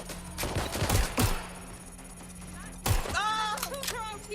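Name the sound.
gunfire in a video game, Watch Dogs: Legion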